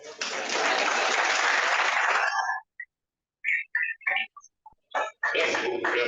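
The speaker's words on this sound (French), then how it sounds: "Applaudissez pour moi." An audience at a medical lecture on ischemic and hemorrhagic stroke breaks into a burst of applause that stops abruptly, followed by scattered brief sounds and then a short second burst of clapping.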